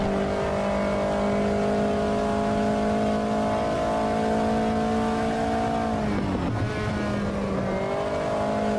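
A P4 prototype race car in the Automobilista 2 sim racing game at Spielberg holds a loud, steady engine drone, then dips and wavers briefly as the revs change before settling again.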